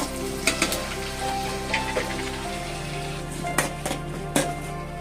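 Grated coconut roasting in a pan for a jackfruit payasam, a steady close sizzle crackling throughout with sharp stirring clicks and scrapes now and then.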